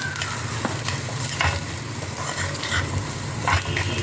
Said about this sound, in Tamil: எண்ணெயில் தான் வறுத்து போடணும் கூட்டுக்கு தேங்காயை